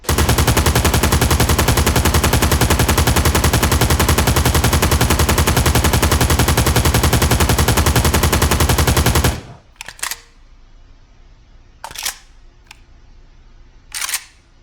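An RPK light machine gun fires a long sustained automatic burst indoors, loud and continuous for about nine seconds, then stops, followed by a few scattered single sharp reports.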